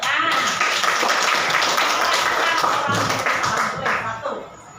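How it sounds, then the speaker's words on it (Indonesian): Schoolchildren in a classroom clap hands on a teacher's cue, a loud burst of sharp claps with a short rhythmic pattern near the end while voices chatter in the background. "Satu, tepuk tangan"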